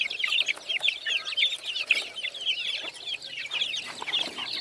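A domestic hen raising black Mongolian chicks gives soft, repeated clucks, mixed with a busy chorus of high chick peeps close by, with no talking.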